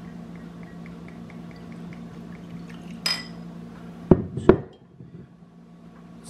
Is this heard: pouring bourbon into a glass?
yes